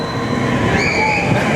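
Roller coaster launch train at Busch Gardens Williamsburg being launched, a loud close rushing rumble of wheels and machinery with a rising whine building midway, steady and dense for the whole moment.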